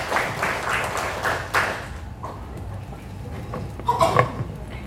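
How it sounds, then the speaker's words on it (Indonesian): An audience at an Indonesian gathering claps as guests are called up to the stage; a dense patter of clapping for about two seconds thins out into a quieter room with scattered clatter. "Tepuk tangannya boleh semuanya."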